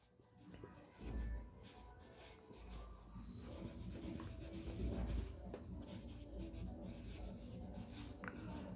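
A maths solution is written out by hand with continuous close scratching and rubbing strokes, in quick bursts with brief pauses, steady and moderately loud throughout.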